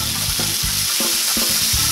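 Pork bifana steaks seasoned with oregano fry loudly in a skillet, a dense constant sizzle with repeated scraping and thumping as the meat is turned back and forth.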